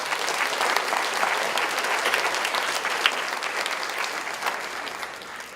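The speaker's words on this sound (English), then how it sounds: "Let's give all these students another quick round of applause" A crowd at a senior scholarship night and honors program applauds students steadily, a dense wash of many hands clapping at even volume for several seconds before it begins to taper off.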